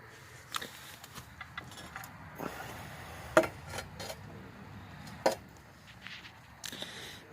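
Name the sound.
tapping threads into holes for shock bolts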